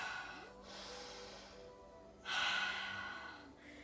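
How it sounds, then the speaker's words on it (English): Quick breaths during a barre workout: two breathy, airy intakes and exhales close to the microphone, separated by a short quiet gap, with faint background music beneath. "Take a quick breath."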